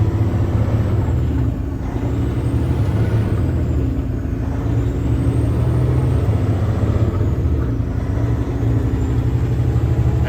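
Commercial oilfield truck engine running and shifting gears, a loud steady low rumble with a brief dip in revs and faint high whine, continuous and close, no voices.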